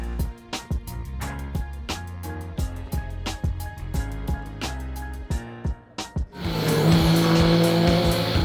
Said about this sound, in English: Ken Block and co-driver Alex Gelsomino were battered and bruised by this car-crunching roll.